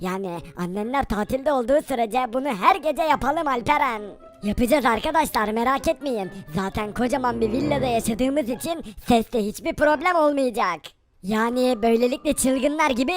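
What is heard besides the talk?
No everyday noise stands out behind the speech.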